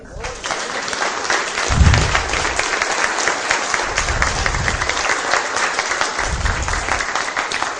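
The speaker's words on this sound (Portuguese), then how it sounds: "Aplaude o Senhor." A church congregation applauds during a sermon, continuous crowd clapping sustained for several seconds with a few low voices rising beneath it.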